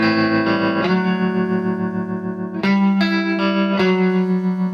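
A guitar plays sustained distorted chords through a Strymon Flint tremolo pedal set to a very fast speed, the notes pulsing rapidly, loud and close, with chord changes every second or so.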